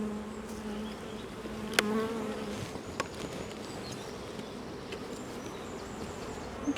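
Honey bees shaken from a hive frame buzz in a dense, continuous drone, with a few sharper individual buzzes passing close by.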